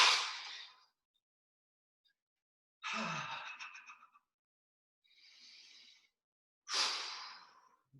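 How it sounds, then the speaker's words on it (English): During a qigong breathing exercise, deep breaths are exhaled as a few soft, airy sighs separated by silent pauses, close and quiet with no talking. "And then another big breath."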